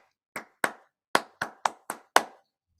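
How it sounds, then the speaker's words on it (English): Seven crisp hand claps ring out alone in a quiet room, tapping out an uneven rhythm pattern in 6/8 for a music class, each clap sharp and close with a short decay. "give them a rhythm pattern and they clap it back to me"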